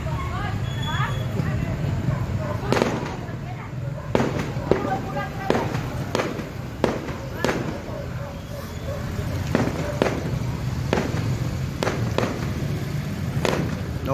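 Fireworks bursting over a crowded city plaza, with a dozen or so sharp booming explosions at irregular intervals, some close together, heard over a busy crowd murmur and voices.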